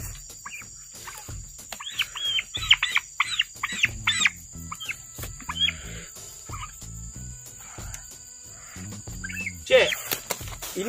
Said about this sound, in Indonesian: Ini adalah ayam biru yang Pak Long tetaskan sendiri.